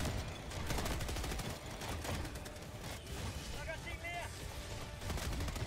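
Rapid automatic gunfire from a gun turret in the video game Helldivers 2, firing in dense bursts amid other combat noise, with players talking over it.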